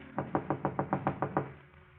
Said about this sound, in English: Then on the next night, a knock at Gloria's apartment door.